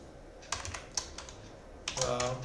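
Computer keyboard keys clatter in two short bursts of quick typing while entering C code, close and fairly clear with a pause between.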